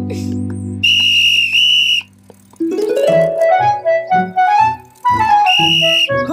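Shrill whistle from a cartoon bee scout leader, sounding in two sustained bursts with a pause, then again near the end amid buzzy musical character voices and tones.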